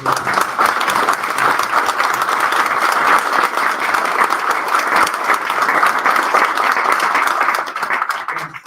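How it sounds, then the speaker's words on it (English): A big round of audience applause at an indie game developers' gathering in Seattle, dense and steady, loud and close throughout with no talk over it before easing slightly at the very end. "Big round of applause"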